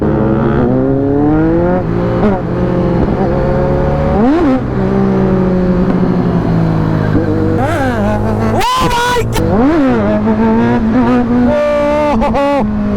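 A Kawasaki Z900 superbike, revved hard and close, gives repeated throttle blips whose pitch swings up and down, building to several sharp, loud revs near the end.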